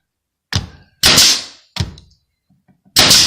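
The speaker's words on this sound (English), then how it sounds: "we're going to do is we're just going to brad it in for now" Several sharp, close thunks from a brad nailer driving brads into a laminated wood countertop while an undermount quartz sink is being installed, with short uneven gaps and a few faint taps between shots.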